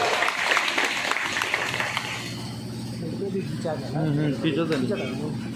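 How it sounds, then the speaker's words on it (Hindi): Crowd clapping at an office inauguration ceremony fills the first couple of seconds, then fades as people start talking. "जोरदार ताली"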